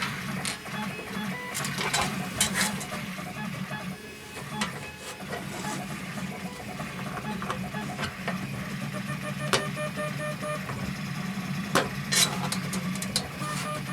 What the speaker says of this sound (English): I've got another one printing